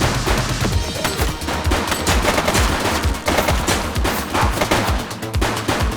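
Rapid bursts of automatic gunfire from The Precinct police game, dense repeated shots with loud punchy transients running continuously throughout, no voices.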